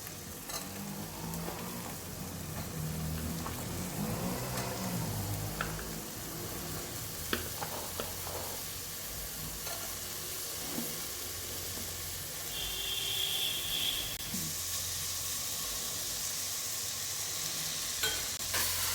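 Mixed vegetables for a vegetable biryani being stir-fried in a pan with onions and tomatoes, a soft steady sizzle under repeated scraping stirs and light utensil clinks, fairly quiet, with no voices.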